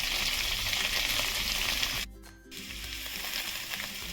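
Two slit green chillies fry in a pan with lightly fried potato and drumstick, a steady hiss and sizzle. The sound briefly drops off midway, then the crackling resumes.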